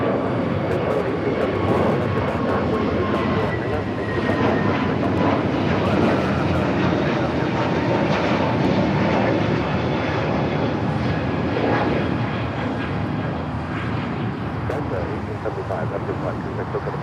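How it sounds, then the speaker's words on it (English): Japan Airlines Boeing 787 Dreamliner, flight 62 from Tokyo Narita, passing over LAX's south side with a sustained loud jet engine roar and faint tonal whine, with voices talking underneath. "I have a Japan Airlines Dreamliner heading over here to the south side."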